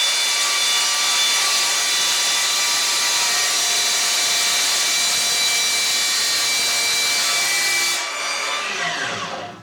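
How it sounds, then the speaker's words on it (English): A metal-cutting chop saw slices through a hardened steel reciprocating saw blade with a loud, sustained, bright screeching whine, then the motor spins down and fades at the end. "This is a metal cutting chop saw. How will it do with the hardened steel Sawzall blade?"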